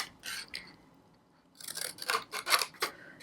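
Scissors make angled cuts through paper tabs for Valentine treat holders, close up. A short snip comes first, then a pause, then a series of quick, crisp cuts.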